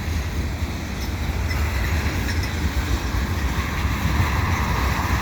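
An eastbound CN freight train passing the Dorval ramps in Montreal on an autumn evening, a steady rumbling roll with faint wheel squeals, heard from a moderate distance and continuous throughout.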